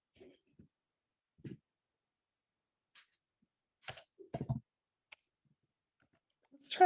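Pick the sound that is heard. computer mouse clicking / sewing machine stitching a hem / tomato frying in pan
computer mouse clicking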